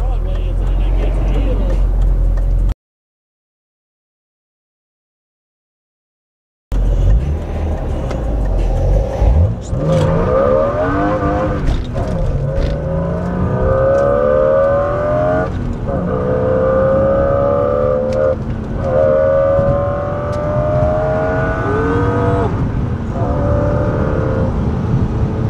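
A BMW E36 fitted with a swapped S54 engine runs hard in sport mode after a brief dropout, its revs rising and falling through repeated pulls, loud and close, with talk underneath.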